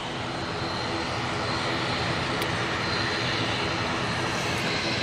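An Aer Lingus ATR turboprop airliner passes over Manchester Airport, with a steady, loud, broadband engine roar that fills the whole stretch without letup.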